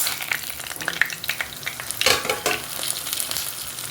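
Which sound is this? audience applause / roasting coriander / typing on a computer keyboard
roasting coriander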